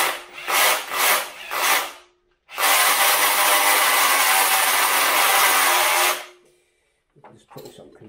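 A power drill spins the distributor of a Mk3 Ford Cortina to pump oil, with three short whirring bursts followed by a longer sustained grinding run of a few seconds, then quiet with faint handling noises.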